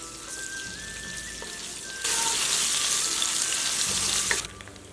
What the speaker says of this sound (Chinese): 起锅热油，加入肉末，给它小火煸香煸散